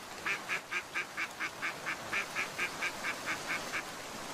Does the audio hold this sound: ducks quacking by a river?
yes